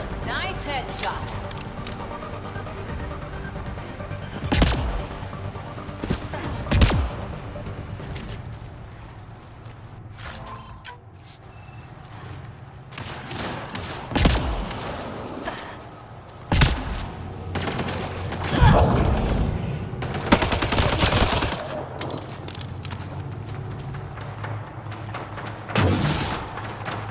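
Gunfire in the Mass Effect: Andromeda video game, with sharp loud shots and booms in irregular bursts over game ambience and music, with a voice speaking at times.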